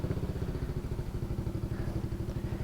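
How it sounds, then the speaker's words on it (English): A scooter engine, fitted with an Akrapovic-style aftermarket exhaust, runs with a steady, rapid low-pitched pulsing throughout, loud and close with no talk over it. "Okay, starting the scoot up here."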